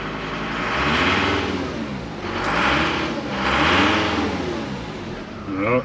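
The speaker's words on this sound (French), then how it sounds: "Pas de défaut, on va accélérer un petit peu." A Mercedes W210 E290 diesel (OM602.982 engine) after injection pump timing work is revved three times, each rise swelling from idle to a loud gravelly roar and falling back, heard up close.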